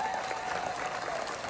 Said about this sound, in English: And so let's give them a round of applause for